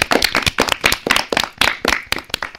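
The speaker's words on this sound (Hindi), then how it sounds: "टीम सी के लिए सभी जोरदार तालियां बजाएं।" Audience at a children's radio quiz clapping for a team, a short, loud burst of close, uneven hand claps with no talk over it.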